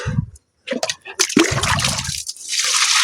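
Tap water runs into a container that has filled, with splashing and pouring in uneven bursts, brief gaps and clatter, building to a steady close rush at the end.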